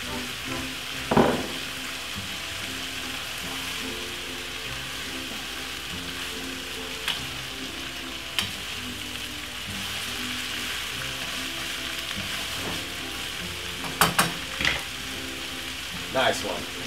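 Cabbage sizzles steadily in a hot pan during a Caribbean stir fry, a constant close hiss broken by a few sharp scrapes and clicks of stirring.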